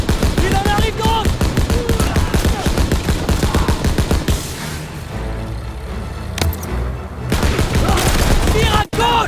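Rapid, dense gunfire from the World War II shooter game Call of Duty WWII rattles in loud bursts, pausing briefly midway before more shots and explosions resume.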